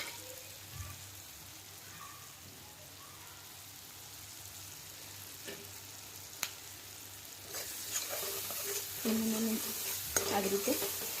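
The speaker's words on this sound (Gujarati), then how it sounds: "થોડું બધું સતળાઈ જાય, હવે ગેસની ફ્લેમ થોડી ફાસ્ટ કરી નાખું છું" Onion and tomato sauté in a pan, a steady moderate sizzle that grows louder and busier after the flame is raised, with spoon scrapes and taps as they are stirred.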